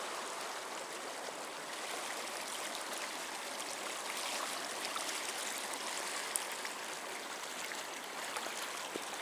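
Rainwater rushes through a desert wash in a steady, continuous broadband roar of flowing water, close and even throughout, with no talking.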